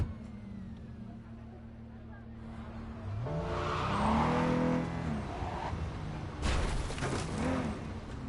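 A car skidding and sliding sideways in Cyberpunk 2077. Engine noise builds into a loud tire squeal over a few seconds, then a second sharp skid follows, with game sounds underneath.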